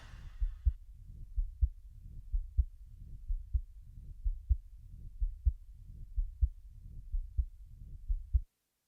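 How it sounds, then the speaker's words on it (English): Recorded human heartbeat sample: a steady, close lub-dub pulse of deep, soft thumps repeating about twice per second, heard alone after a short hiss at the start and stopping abruptly. "So let's just listen to the heartbeat first."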